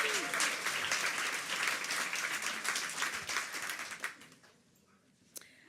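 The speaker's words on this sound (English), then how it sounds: "please clap for yourselves" Applause at a maternal health conference, a dense burst of many hands clapping that stays strong for about four seconds, then fades to scattered claps and near quiet, with a single sharp clap near the end.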